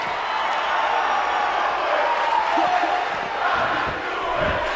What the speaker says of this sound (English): Man, this crowd is nuts